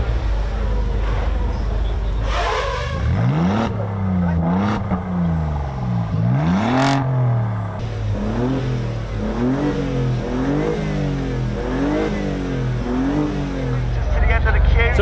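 A Giulia accelerates at full throttle up the Goodwood Hillclimb, its engine note climbing loud and close through a series of rising revs broken by gear changes, while a voice talks over it.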